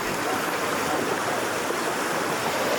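A river in the Colombian jungle rushing steadily, a dense broadband wash of flowing water, close and continuous with no breaks and no voices.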